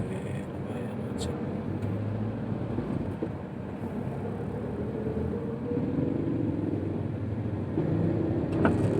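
Congested traffic on a Jakarta street heard as a continuous low engine rumble and road noise, steady throughout, with a few faint horn-like accents and no clear voices.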